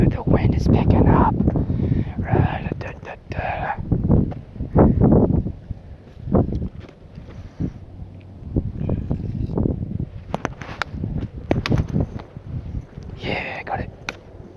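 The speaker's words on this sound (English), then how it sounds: "the wind is picking up" Gusts of wind buffet the microphone outdoors on a nature walk, rising and falling in loud low rumbles, with a person talking over parts of it.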